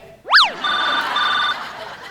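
A telephone rings once after a brief rising chirp, a sustained two-part electronic ring tone close to the microphone, with no one speaking over it.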